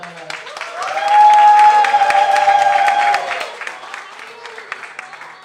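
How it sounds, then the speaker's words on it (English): An audience at a live show bursts into applause with cheering and a sustained whoop, swelling quickly, holding loud for a few seconds, then thinning into scattered claps. "Please keep that energy high and give a big round of applause for Lona's Club."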